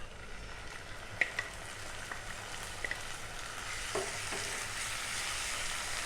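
Ginger, garlic and onion paste fries with browned onions in a pan, giving a steady, close sizzle with light scraping stirs and a few clicks.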